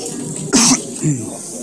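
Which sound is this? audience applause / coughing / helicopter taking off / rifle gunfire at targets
coughing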